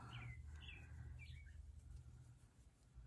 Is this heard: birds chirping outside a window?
yes